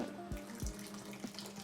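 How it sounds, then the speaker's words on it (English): About three quarters of a cup of water poured into a pot of chicken curry on the stove, a close trickling splash running continuously with a few clunks at the start and no talking. "And then we'll add in a little bit of water just to help it."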